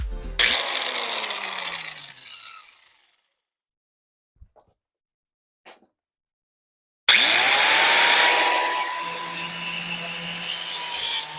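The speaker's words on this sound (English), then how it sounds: "Got my cutoff wheel here." A cutoff wheel cuts through metal in two loud, harsh bursts of grinding with a whining spin tone. The cutting stops for several near-silent seconds, broken only by a couple of small knocks, then resumes.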